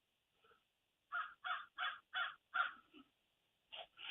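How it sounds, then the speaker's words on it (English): Crows cawing outdoors in snowy weather after several inches of fresh snowfall, a run of six loud harsh caws in quick succession followed by a softer call and two more caws, fairly close and alone with no talk. "And you can hear the crows."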